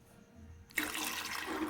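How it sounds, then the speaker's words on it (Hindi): Water pours into a cooking pot for rice, starting abruptly and continuing as a steady, loud, broadband splashing gush with no talking. "2 डिब्बे पानी डाल दिया"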